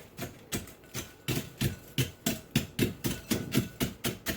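Ice cream scoop crushing pie ingredients, roughly a dozen sharp, evenly paced thuds in a steady rhythm, close and fairly loud with no talking.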